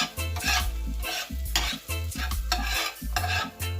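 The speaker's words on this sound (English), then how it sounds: "So we're gonna start kind of fry up our, caramelize our white onion" White onion frying in oil in a pan, with rhythmic stirring scrapes and clinks over a steady close sizzle, loud and alone with no voices.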